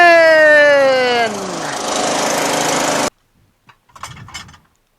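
A rebuilt Craftsman 17.5 HP Briggs & Stratton OHV lawn tractor engine runs with a loud, whining hum that winds down. It cuts off abruptly after about three seconds, leaving a few faint knocks and rustles.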